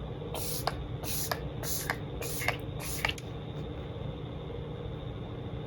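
A Lumene facial mist bottle sprays in roughly five short bursts, each a crisp airy hiss, close up over a steady low room hum, then the spraying stops and only the background remains.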